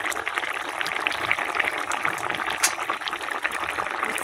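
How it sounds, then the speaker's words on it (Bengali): Potatoes, Malabar spinach and ridge gourd simmer in a pot of water, giving a close, continuous bubbling hiss with small irregular pops, no voices. "আলু সেদ্ধ হয়ে গেছে, পুঁই শাক সেদ্ধ হয়ে গেছে, সবাই সেদ্ধ হয়ে গেছে, ঝিঙে সেদ্ধ হয়ে গেছে"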